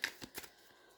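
Tarot cards being shuffled in quick papery riffles, with a few short crisp bursts close by at the start before fading to quiet.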